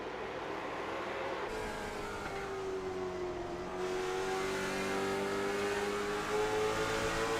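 Stock cars racing nose to bumper at night at Southern National Motorsports Park, engines droning steadily and loud with a rising and falling pitch as the pack runs through the turns, no voices.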